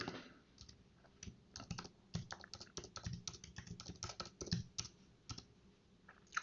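Rapid typing on a computer keyboard while logging on as root to an OPNsense firewall, a close, uneven patter of clicky keystrokes in quick bursts with short pauses, no voice.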